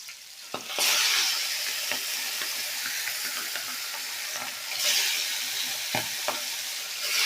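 Hilsa fish pieces fry in a pan with a steady, loud sizzle and hiss, broken by occasional clacks and scrapes of stirring; no one speaks.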